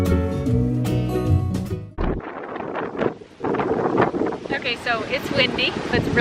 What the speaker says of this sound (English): it is super windy and the sand is just blowing all over me